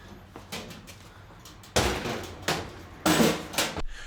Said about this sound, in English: Because I want to get that door shut.